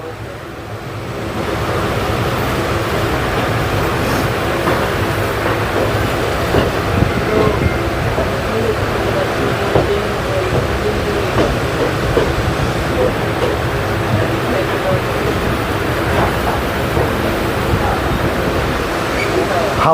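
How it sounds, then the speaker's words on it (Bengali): A Secunderabad–Santragachi express on the Howrah–Kharagpur main line pulls into Andul station, a loud steady rumble and rattle of wheels and carriages that swells in and holds for many seconds. "দেখুন ট্রেন আন্দুল ঢুকছে"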